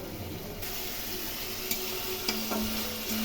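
Hilsa fish with eggplant cooking in oil with ginger, garlic, chilli and onion paste, a soft steady sizzle with a few light clicks of a utensil against the pan, fairly quiet and close.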